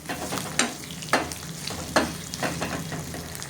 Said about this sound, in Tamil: ஒரு நாலு பூண்டு சின்ன பூண்டு புளி எல்லாமே நல்லா வதக்கணும்